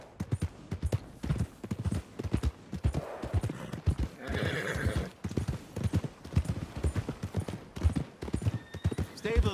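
Rhythmic hoofbeats of a horse clip-clopping at a quick pace in Red Dead Redemption 2, with a whinny partway through and bursts of other sounds around it.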